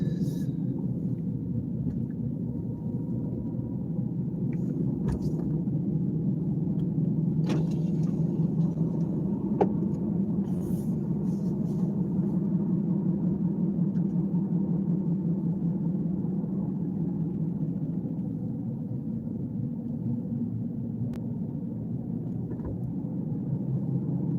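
A car drives through a residential neighborhood at night with a steady, low engine and road rumble that runs without a break, with faint occasional ticks above it.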